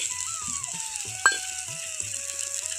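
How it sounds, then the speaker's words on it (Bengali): Spices are sautéed in a pan for a leftover-eggplant dish, giving a steady, close sizzle and fry with occasional stirring scrapes and one sharp clink. "এখন আমি একটু মশলাটা কষিয়ে নিয়েছি"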